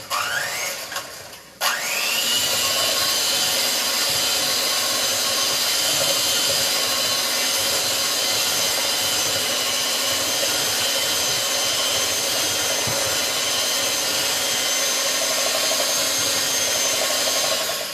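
Electric mixer beating an egg into Italian seed cookie dough, a steady loud motor whir that starts after a brief pause and runs without a break to the end.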